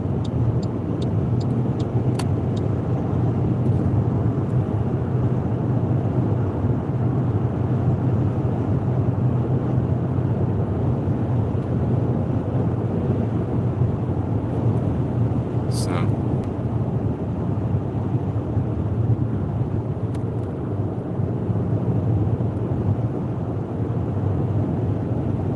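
Wind buffets the microphone of a moving car in a steady low roar, a dense continuous rumble from the road and engine with no breaks.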